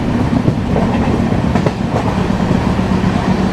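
A Delhi–Mumbai AC special train runs on rails at about 100 km/h, heard from inside as a steady, loud rumbling roar with rhythmic clickety-clack wheel beats, no talk.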